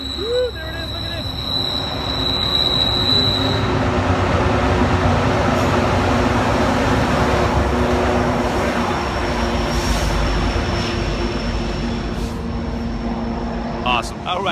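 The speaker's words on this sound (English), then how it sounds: "We got a train coming." A train passes at a distance with a steady low rumble and a long horn-like tone, while people talk over it outdoors.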